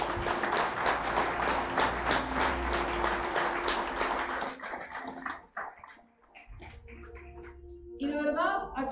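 A congregation at a Catholic preaching event claps, a dense burst of applause for about four seconds that thins out and breaks into scattered claps, followed by a voice speaking.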